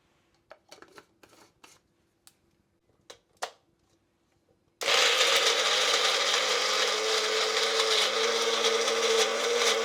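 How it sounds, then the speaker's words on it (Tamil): A mixer grinder starts abruptly and runs loud and steady, grinding soaked oats, almonds and dates, after a few quiet clicks and knocks of setting up. "ஊற வச்ச ஓட்ஸு, பாதாம், டேட்ஸ் இதெல்லாமே 3ல் வந்து மிக்சியில் அரைச்சிக்க போகிறோம்."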